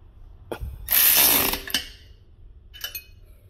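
A ratchet tightens a fitting in a few short bursts of rapid pawl clicking, the longest around the middle, then a brief click near the end. The sound is close and fairly loud, with no voices.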